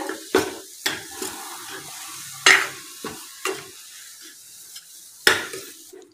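A spoon stirs rava modak mixture in a pan, scraping and knocking against the metal in irregular strokes at close range while faint cooking noise sits beneath, with no voices.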